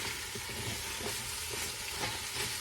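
Tomatoes sautéing in an Instant Pot give off a steady, fairly quiet sizzle and hiss, with faint stirring scrapes now and then and no voices.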